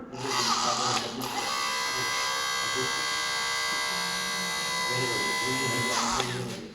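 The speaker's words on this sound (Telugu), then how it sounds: "ఈ కట్టర్తో మనం ఈజీగా కట్ చేసేస్తాం" A loud, steady high-pitched electric iron beam cutter whine in a garage runs continuously for several seconds, starting and stopping abruptly at either end.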